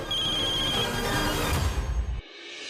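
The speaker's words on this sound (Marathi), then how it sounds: "ताईचा फोन." A telephone rings steadily with a sustained electronic ringtone, close and fairly loud, then cuts off abruptly after about two seconds.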